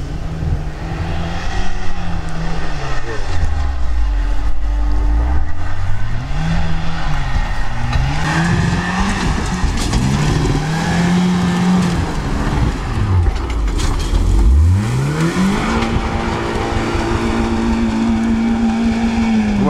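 A Lada Niva off-road car climbs a hill during a steppe off-road competition, its engine loud and close, revving and falling in repeated surges that rise to a sustained high whine near the end.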